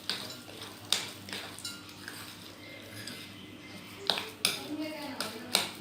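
A spoon clinks and scrapes against a bowl while potato pakora batter is mixed, with sharp intermittent taps over quiet kitchen background.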